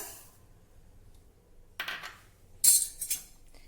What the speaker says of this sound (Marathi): त्यानंतर कढईमध्ये पाव वाटी मूग डाळ